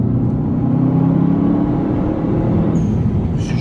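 A Subaru Forester STI engine revs under acceleration with its turbo blowing, a loud steady in-cabin drone with rising engine tones and a brief whoosh near the end.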